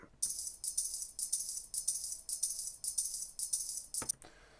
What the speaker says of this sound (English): I've got a couple of different samples from the garage keys being jingled.